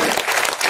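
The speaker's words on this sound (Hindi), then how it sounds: "एक बार जोरदार ताली बजाकर अभिनंदन करेंगे" A crowd at an outdoor Independence Day gathering near a cow shelter in Machhli Park, New Delhi, claps loudly and densely in a continuous burst of applause with no pauses.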